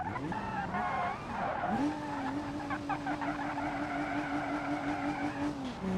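A car in the BeamNG driving game slides into a drift, its tires squealing in a long, loud, sustained screech over a steady engine note after a brief revving burst.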